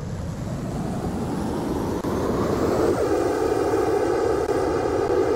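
An old spy plane flying in a Roblox game drones with a continuous engine hum, the tone shifting and growing slightly fuller about halfway through, with no one talking.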